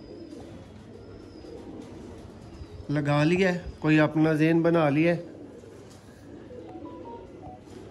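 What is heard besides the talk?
pigeons cooing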